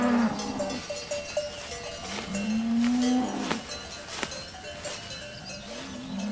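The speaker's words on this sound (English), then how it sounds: "Only now is it warm enough for cows to be brought up to these high pastures." Cows grazing on a high mountain pasture give several long, drawn-out moos at moderate distance, with cowbells clanking irregularly through the open air.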